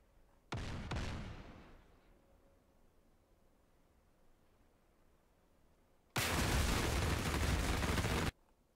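Two loud blasts from CBU-97 cluster bomb strikes in DCS World with an A-10C II, the first a sharp burst fading over a second, the second a dense roar lasting about two seconds.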